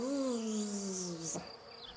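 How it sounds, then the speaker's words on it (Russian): A plump bumblebee hovers over clover, its loud, close buzz sliding slowly downward in pitch for over a second before fading out, with no voices. "толстый шмель над клевером жужжит"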